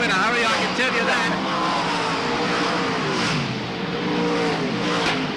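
Race cars roar around the Wagga Wagga speedway track, engines loud and continuous with revving and passing swells, under an excited commentator's ongoing voice.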